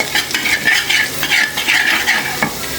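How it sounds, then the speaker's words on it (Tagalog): Ginger sautéing in a hot pan for tofu sisig, a steady close sizzle with quick rhythmic scrapes of a utensil stirring against the pan. "Igisa natin ang luya"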